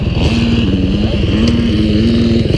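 Yamaha YZ250F dirt bike engine racing at a motocross track, a loud, close, steady high-revving buzz with a sustained rasping tone.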